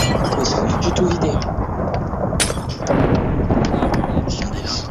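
Continuous rain and rumbling thunder from a Minecraft thunderstorm roar steadily throughout, with a sharp crack partway through, dense and loud in the foreground.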